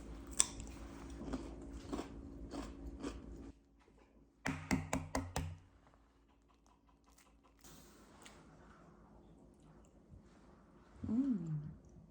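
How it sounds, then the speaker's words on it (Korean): Someone bites into and chews cucumber at close range, giving a few crisp crunches followed by softer wet chewing, with brief tapping and quiet gaps. "항상 오이를 먼저 먹습니다."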